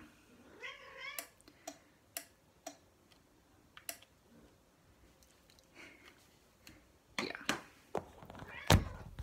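A house cat gives a few short meows among scattered ticking and thumping sounds indoors, with sharper clatters toward the end.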